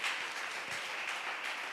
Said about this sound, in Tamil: நல்ல கையை தட்டி